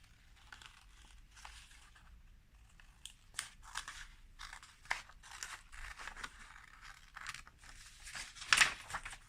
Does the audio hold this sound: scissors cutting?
yes